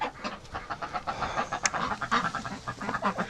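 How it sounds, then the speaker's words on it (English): Nesting ducks hissing and huffing in rapid, breathy pulses, close by, as eggs are checked in the nest; a continuous agitated panting rhythm with a brief sharper squeak midway. "The duck's going to freak right out, but let's get the eggs done up here."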